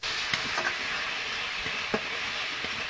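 Grated tomato sizzles steadily in hot oil with ground cumin and coriander for a fish curry, a dense close frying hiss with a few soft stirring scrapes.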